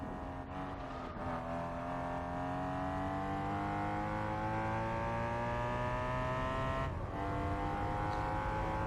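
A BMW M3 racing on the Nürburgring in Gran Turismo 4 holds a loud, steady engine note that climbs smoothly through the revs, with brief dips at the gear changes.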